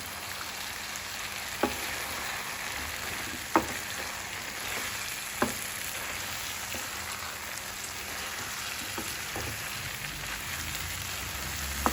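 Radish pods and onions sizzle in a hot pan, a steady dense frying hiss throughout with a few faint knocks of a utensil against the pan, no voices.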